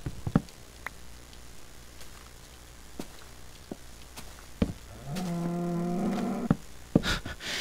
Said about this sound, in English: it was from the cow